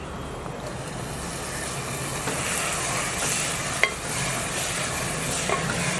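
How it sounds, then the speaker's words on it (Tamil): Chopped tomatoes are sautéed in oil in a pan for a soya chunk biryani, giving a steady, close sizzle with faint stirring scrapes and a single brief clink. "தக்காளி நல்லா குழைவாக நல்லா வதக்கியாச்சு எண்ணெயிலேயே."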